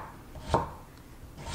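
A knife cutting julienned radish on a cutting board, two distinct sharp chops about a second apart, close and clear against a quiet room.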